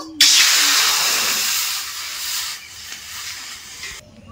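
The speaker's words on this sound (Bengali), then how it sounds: "কড়াইয়ের মধ্যে জল দিয়েছি, এরপর আমি এঁচড়গুলো দিয়ে দেবো সেদ্ধ করার জন্য" Water poured into a hot wok for boiling jackfruit hisses loudly at first with a burst of steam, then the broad hiss slowly fades over several seconds before cutting off, with no voices.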